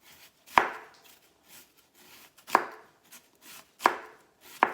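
A knife slices onion thinly on a cutting board for a quick healthy salad, producing four sharp, spaced chops at an unhurried, even pace, close and clear against a quiet background.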